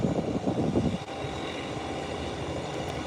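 Aircraft taxiing onto a runway, a loud steady engine drone heard from a distance, with a rumbling surge that eases off after the first second.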